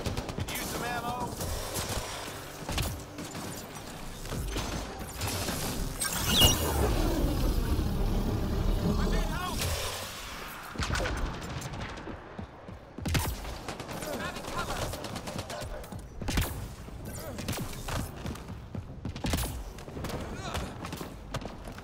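Rapid bursts of video game gunfire in an Apex mission, with dense automatic fire and repeated single shots close up, while a player talks over the action.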